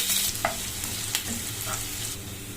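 Thinly sliced onion pieces frying in hot oil with spluttered mustard seeds and split urad dal for a carrot and radish fry, a steady close sizzle with occasional spoon scrapes.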